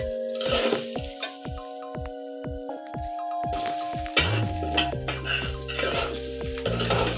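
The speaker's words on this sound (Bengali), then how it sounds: "তিন মিনিটের মতো আমি নেড়ে চেড়ে নিয়েছি মশলাটাও সুন্দর ভাজা হয়ে গেছে চালটাও ভাজা ভাজা হয়ে গেছে" Spices and rice frying in a pan for egg khichuri, with a utensil repeatedly scraping and stirring over a steady sizzle, close and clear with no talking.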